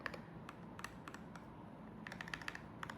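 A Keychron J8 HE 8K keyboard is handled and tapped, giving faint clusters of light plastic clicks and key taps over a steady low room hiss, with no talking.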